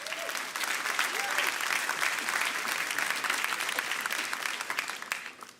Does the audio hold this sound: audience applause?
yes